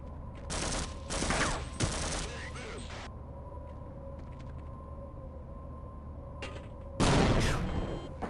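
Grenade blasts and gunfire from Star Wars: Knights of the Old Republic II, loud and dense bursts around the start and again near the end, with a quieter lull between.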